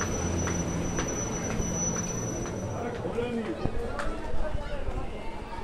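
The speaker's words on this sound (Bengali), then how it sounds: "আর এই আমাদের ট্রেন চলে এসছে" The Tara Maa Express (13188) rolls into Rampurhat station with a steady low rumble and faint wheel squeals, a brief high whine, and muffled voices in the background.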